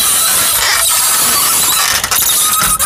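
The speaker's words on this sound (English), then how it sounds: "This bike's so loud and so little." A small engine screams loudly and steadily at high revs, a harsh, buzzing whine that fills the whole clip with no pauses.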